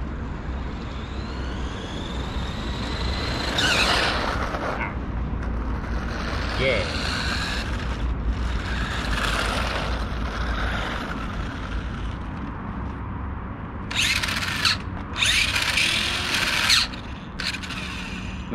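Vintage 1980s Taiyo Tyco Heads Up Hopper RC car driving, its motor whining in repeated short bursts over a continuous low rumble, with some high-pitched squeals and fairly quiet overall.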